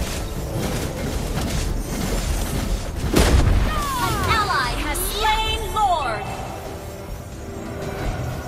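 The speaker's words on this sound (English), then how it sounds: "Our turret has been destroyed." A turret destroyed in the Mobile Legends video game, a low boom about midway followed by crackling debris, heard under game announcer speech and a busy battle soundscape.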